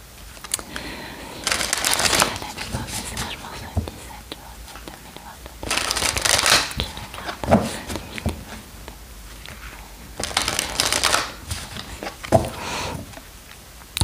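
Oracle cards from the Lenormand deck of Renata Lechner are shuffled by hand in three separate rustling bursts with quiet pauses between them, and a soft voice murmurs faintly in the background.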